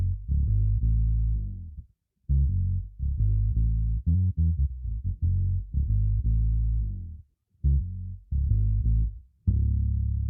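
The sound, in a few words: bass guitar with octave effect added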